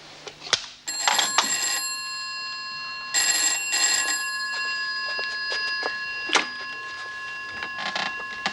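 A telephone rings in a quiet room, several bright electronic ring bursts with pauses between them, fairly close and clear with no talking over it.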